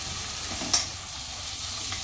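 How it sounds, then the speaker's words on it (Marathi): Onion, tomato and paste being stirred together in a pan for a village-style dill greens and moong dal dish, with a steady soft sizzle and one clear scrape of the spoon, close and alone. "टोमॅटो सॉफ्ट होईपर्यंत व्यवस्थित आपल्याला मिक्स करून घ्यायचं आहे ते पण"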